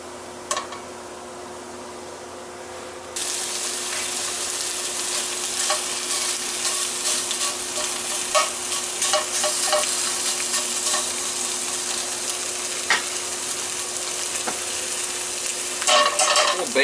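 Pre-cooked ham and sweet potato homefries warmed in a hot pan, a steady close sizzle that swells after a few seconds, with scraping stirs and clinks throughout.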